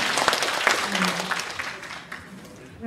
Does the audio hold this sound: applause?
yes